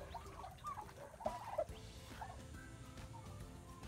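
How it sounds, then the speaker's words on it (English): Turkeys gobble and chortle in short bursts at close range amid light rustling and background noise. "Turkeys checking out their enclosure for the first time."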